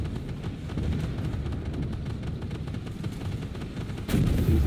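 A tank rolls along in the Armored Warfare video game, its low engine and track rumble droning steadily before a sudden loud cannon blast near the end.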